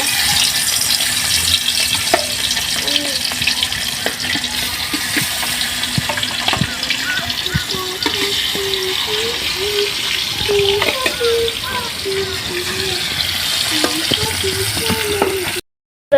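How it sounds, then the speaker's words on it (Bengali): Goldfish frying in very hot oil in a village kitchen, a loud, close, continuous sizzle and crackle that holds steady throughout with small bubbling spurts. "এখন আমি তেলের মধ্যে মাছগুলো ভেজে নেব।"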